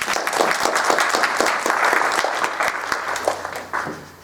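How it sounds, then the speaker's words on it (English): Loud, sustained applause from a crowd, dense clapping throughout that starts to thin out near the end. "give yourselves a big round of applause right now"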